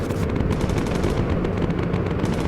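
Bomber gunners in Bomber Crew fire machine guns in a steady, continuous rattling burst that lasts throughout, loud and close with a rumbling engine bed underneath.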